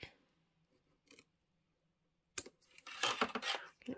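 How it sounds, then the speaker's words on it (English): Small snips cutting fabric close to a zipper on a sewing project for a pet pouch: a faint click early, then a burst of sharp, close snipping and rustling toward the end, with no talk. "Just get your little snips under there."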